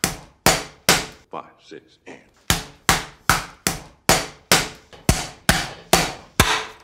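A pork cutlet is pounded with the bottom of a skillet on a sturdy butcher block: about fourteen loud, sharp thuds in a steady rhythm, with a short pause partway through where a voice briefly talks.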